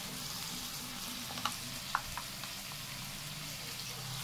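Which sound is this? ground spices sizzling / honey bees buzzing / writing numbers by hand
ground spices sizzling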